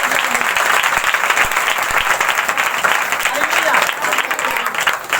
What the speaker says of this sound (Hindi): परसों परसों रात रात ताली बजाएंगे परमेश्वर